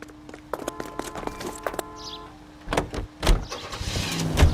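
A car in the video game L.A. Noire: door and mechanical clunks followed by an engine starting and revving up in short surges, fairly close and moderately loud.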